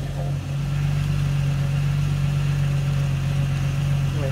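Steady low electric hum of a 1990 Jeep Wagoneer power window regulator motor running continuously, close and fairly loud, with a brief dip near the start before the whir settles into an even drone.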